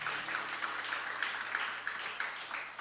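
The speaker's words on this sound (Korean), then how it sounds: "주님께 영광의 박수 올려드리겠습니다." A church congregation claps in praise during a Sunday worship service, with a sustained wash of applause that holds steady throughout. A low hum sits faintly underneath.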